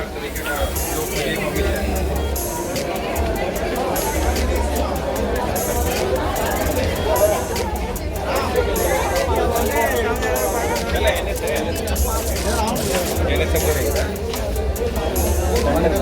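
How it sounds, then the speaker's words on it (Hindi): Bustling crowd at Palika Bazaar, an underground shopping market in Delhi, with steady murmur of many voices, occasional clinks and a continuous low hum filling the space, while a person talks close by. "अलग अलग दुकानें, भीड़ भाड़"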